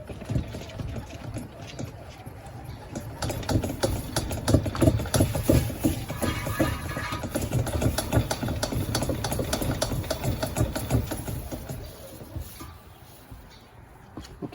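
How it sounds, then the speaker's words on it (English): A Liberty #712 single-arm garden hose reel winding in 50 feet of hose gives off a fast, continuous ratcheting click and rattle that swells and eases over several seconds. "And as you can hear it, it's clicking a little bit."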